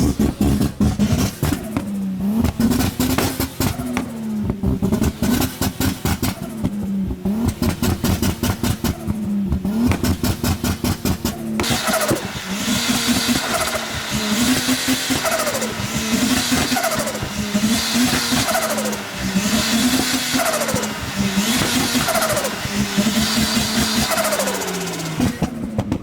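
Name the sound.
turbocharged Lexus IS200 cars revving and accelerating away from car meet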